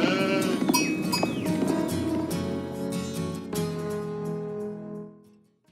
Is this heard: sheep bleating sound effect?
yes